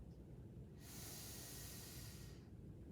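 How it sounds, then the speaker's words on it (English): A person doing seated tai chi draws one slow, soft inhale through the nose, a quiet airy hiss lasting about a second and a half against a near-silent room. "Breathing in,"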